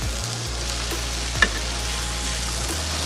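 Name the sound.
sautéing ginger garlic paste with onion and tomato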